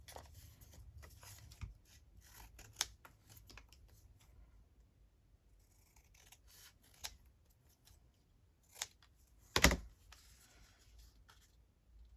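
Scissors trimming book-page paper for a junk journal: faint, sparse snips and paper rustles in a quiet room, with one sharper handling knock near the end.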